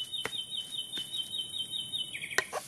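A cartoon bird makes thin, high chirps against a steady electronic whine, with sharp clicks at intervals and a brighter flurry near the end, faint and without speech.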